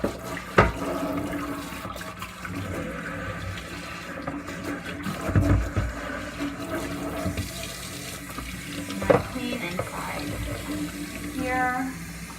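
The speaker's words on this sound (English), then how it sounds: "Here, just let the water run through" Tap water runs steadily through rinsed parts of a Dyson DC28 vacuum in a sink, a close, continuous splashing flow with occasional knocks and handling clatter, and a voice speaks briefly over it.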